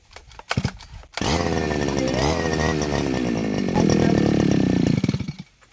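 A petrol grass trimmer engine, used for clearing weeds in a cassava field, catches after a couple of brief pulls and then roars steadily and loudly at close range, its pitch rising and settling before it cuts off.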